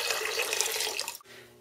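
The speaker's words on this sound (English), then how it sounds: "I'm going to start filling up the carboy. 20 liters of water." Tap water rushing into a carboy for brewing beer, a steady close hiss of running water that stops abruptly after about a second, leaving a quiet room hum.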